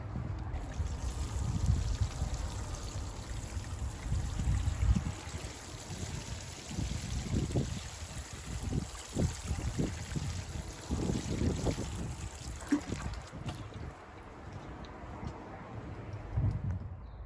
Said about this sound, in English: So I'm going to water the roots now